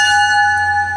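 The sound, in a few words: NJ Transit locomotive bell ringing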